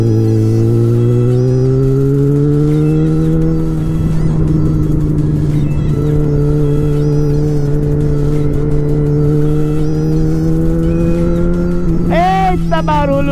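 A Yamaha XJ6 motorcycle engine idles and revs loudly and steadily, its pitch climbing and settling across the stretch, with a sharper rev burst near the end.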